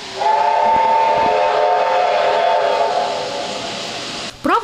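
A steam-powered retro passenger train arriving at a station at slow speed, its loud sustained steam whistle blasting for several seconds over rumbling rail noise, then a brief hiss of steam at the end.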